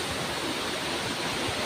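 Waterfall on Mount Chukungtam in the rain, a steady dense roar of falling water, close and loud, with no voices.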